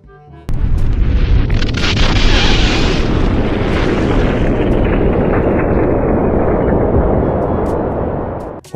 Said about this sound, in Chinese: 能不表演原地爆炸？